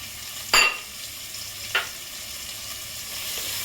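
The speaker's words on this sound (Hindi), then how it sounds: "प्याज अच्छी तरह भून रहा है।" Onions fry in a pan with a steady, close sizzle throughout, broken by two brief bursts of stirring or clatter, and nobody speaks.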